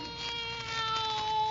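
A cat meows in a radio drama, a drawn-out, fairly loud caterwauling cry against a steady hum.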